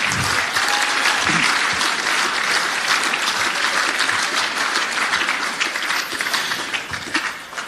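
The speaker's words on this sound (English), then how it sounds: "So big round of applause for the reserve graders, Josh Murphy and Michael Ryan." Sustained applause from a large crowd at an amateur football league medal night, loud and steady throughout, with dense clapping that tapers slightly near the end.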